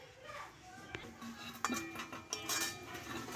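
A pot being covered with its lid in a kitchen where milk-based lachha semai is cooking, soft metallic clinks and a brief clatter over a quiet background, with faint speech.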